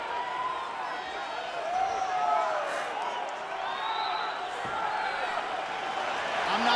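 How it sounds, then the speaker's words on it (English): Loud arena crowd from the UFC 5 video game at the Bell Centre in Montreal, Quebec, a steady roaring wash of cheering that swells and ebbs without pause, with scattered whistles rising above it. "I'm not sure I have ever heard a louder crowd in any arena in the world than this here Bell Center in Montreal"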